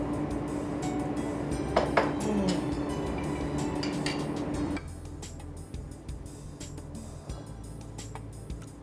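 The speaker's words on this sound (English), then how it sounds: "Pour it in my glass here, in my bowl." A smoothie is poured from a blender into a glass and a bowl, with soft pouring and scattered light clinks of glass and utensils, close by and fairly quiet.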